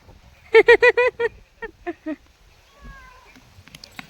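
A cat meows in a quick run of five or six close, insistent cries, pauses, then gives a few shorter meows.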